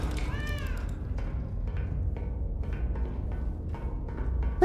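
A cat meows a few times near the start in a game setting, with short rising tonal cries over a steady low background hum.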